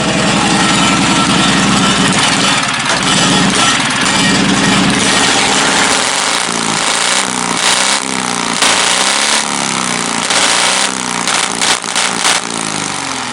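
A race car engine, the race car called The General, revs hard and loud up close, steady roaring drone at first, then a series of rapid rising and falling blips of the throttle with no talk over it.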